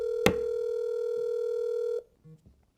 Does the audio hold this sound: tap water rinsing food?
no